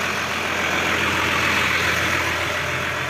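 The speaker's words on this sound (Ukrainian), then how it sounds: "зараз я залізу в трактор." Diesel tractor towing an Odyssey crop sprayer idles steadily nearby, a constant low rumbling hum with no breaks and no voices.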